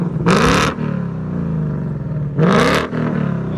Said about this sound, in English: This is with the active exhaust open.